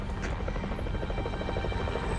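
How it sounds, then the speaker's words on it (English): A helicopter flies nearby, its rotor a steady low chopping throb that fills the whole stretch at an even, fairly loud level with no voices over it. "Sounds like a helicopter."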